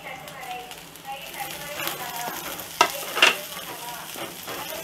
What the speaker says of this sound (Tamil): இப்போ நம்ம சாப் பண்ணி வச்சிருக்கிற ஆனியனை போட்டுடலாம்.